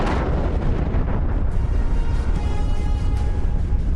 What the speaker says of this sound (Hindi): फिर एक धमाका हुआ।